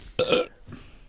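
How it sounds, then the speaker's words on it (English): A single loud, close burp from a podcast co-host, a short raspy belch followed by a softer trailing tail, heard alone without talk. "That was a burp from our co-host"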